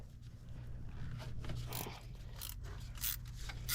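A bolt being worked loose on the plastic thermostat housing of a Kia Soul or Forte: steady close ratcheting clicks from a hand wrench, running continuously at a quiet level with no talking.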